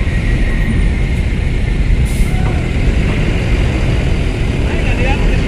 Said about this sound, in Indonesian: Bis terakhir.